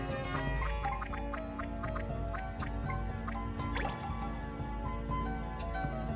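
A water spell effect in Final Fantasy Tactics A2: Grimoire of the Rift, a run of bright dripping and splashing plinks over a steady game music bed.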